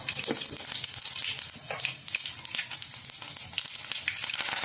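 Cumin seeds sizzling in hot oil for a festive Holi puran poli thali, a dense steady crackling fry with scattered sharp pops, close and fairly quiet, no talking.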